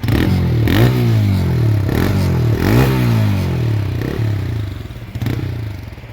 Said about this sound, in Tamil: வண்டியோட த்ராட்டில் ரெஸ்பான்ஸ் பாருங்கள்.